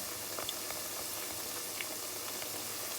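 Banana fritters frying in oil over medium heat, a faint steady bubbling and hiss with scattered small pops and crackles throughout.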